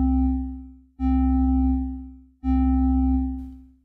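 Synth patch with a slow attack and a long release, three sustained low notes that swell in and taper away, each one fading gradually before the next begins, smooth and continuous.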